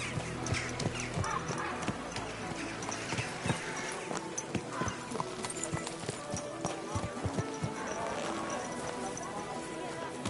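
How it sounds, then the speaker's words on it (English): Horse hooves clip-clop steadily at a walk in the medieval video game Kingdom Come Deliverance 2, with game ambience and scattered sharp knocks under a voice talking. "Easy, good horse."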